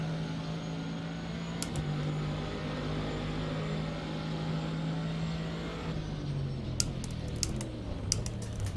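A Callaway C7 GT3R racing engine in rFactor 2 at Zandvoort drones at a steady pitch, then drops as it short-shifts, with a few faint clicks near the end.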